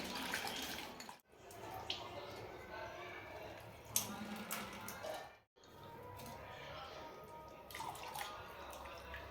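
Sweet corn is washed under running water from a tap. A steady, splashy stream runs throughout, broken by two brief pauses, with soft knocks and dribbles as the cobs are handled.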